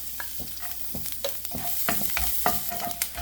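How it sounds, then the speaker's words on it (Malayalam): Chopped garlic in hot oil for a paneer cheese sandwich fries with a continuous sizzle, broken by repeated clinks and scrapes of a spoon stirring in the pan. "എണ്ണ ഒന്ന് ചൂടായിട്ട് വരുമ്പോൾ നമ്മൾ മുറിച്ച് വെച്ച വെളുത്തുള്ളി ഇതിലേക്ക് ഇട്ട് കൊടുക്കാം"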